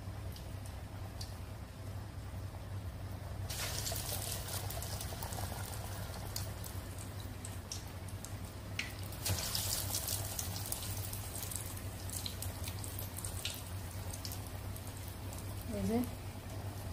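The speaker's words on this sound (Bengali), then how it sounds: "এভাবে আমি সবগুলা তেলে ছেড়ে দিব। তেলে ছেড়ে দেওয়ার পর এগুলাকে ভেজে নিব।" Broccoli and onion pieces hiss and crackle in hot oil, a steady frying sizzle that swells as more pieces go in and continues without a break until the end.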